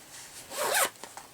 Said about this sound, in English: it has a zipper, so it zips on top